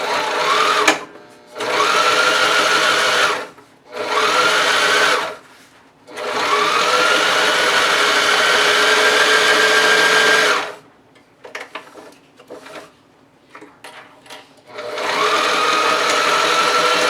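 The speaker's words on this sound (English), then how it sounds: "Now I can just sew down this fold to create the channel." A sewing machine runs in long steady bursts while stitching down a fabric fold to form an elastic channel on a backpack water bottle pocket, with short pauses and quiet handling between runs.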